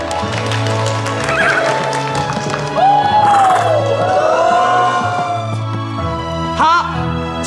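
A small pony, presented as a miniature horse on a stage before an audience, gives a loud gliding whinny while hooves clop near, over a steady low hum, with a brief crowd-like swell partway through.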